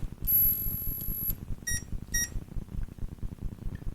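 Electronic alarm clock beeping, a long high-pitched tone followed by two short beeps, fairly clear over low background rumble.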